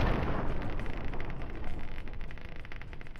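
A grenade goes off in Fallout 3 with a loud rumbling blast that trails into a long noisy decay, lasting the full length of the clip with no talk.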